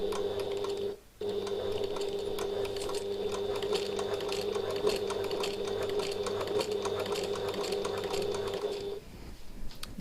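A sewing machine runs in a long, even whir around the edge of a tote bag, pausing once briefly before stitching on and finally stopping, with no voices.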